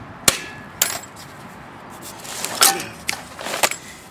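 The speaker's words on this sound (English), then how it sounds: "Just gonna tap this piece here with a hammer, try to break it open." A hammer taps on a scrapped sump pump, trying to break it open: a handful of sharp, irregular metallic knocks spaced through quiet, close and fairly loud with no talking.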